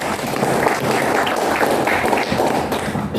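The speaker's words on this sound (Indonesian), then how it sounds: "Tepuk tangan untuk unit kita." Applause from an audience at a corporate PLN UP3 Jatinegara gathering, loud and continuous clapping with a dense, even patter that carries steadily from start to finish.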